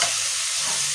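Lentils fry in a hot pan while being stirred, giving a brief, steady, close sizzling hiss with no voices.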